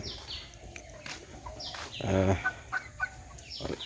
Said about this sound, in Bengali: 150 পিসের মতো মুরগি আছে। তো মুরগিগুলা 2 কেজি প্লাস আছে সব মুরগি